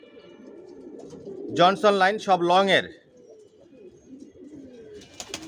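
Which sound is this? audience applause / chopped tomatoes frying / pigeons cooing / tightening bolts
pigeons cooing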